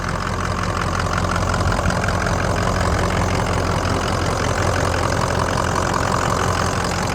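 A 2003 Ford crew cab dually pickup's Power Stroke turbo diesel idles close by with a loud, steady, even clatter and low rumble that never changes pace, with no voices.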